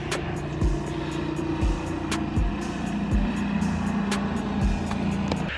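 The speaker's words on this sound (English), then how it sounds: "there's people in a go-kart driving by," A golf cart drives by outdoors with a steady motor hum and a regular, repeating ticking or thumping roughly every second, fairly loud and constant throughout.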